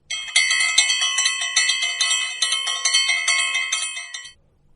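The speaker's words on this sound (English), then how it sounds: "church bells rang out" Church bells ring out in a bright, rapid, clanging peal, loud and close, with overlapping strikes for about four seconds before stopping abruptly.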